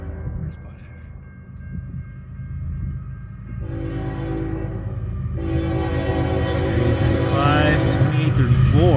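A CN freight train approaches at Ladysmith, Wisconsin, its rumble building steadily as the horn sounds in several blasts, with a voice talking over it.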